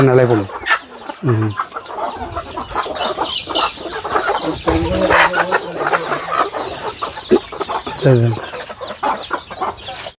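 Native country chickens (nati koli) cluck steadily through the yard, with several birds overlapping in busy, close calls and a few louder squawks, while a voice speaks in the background.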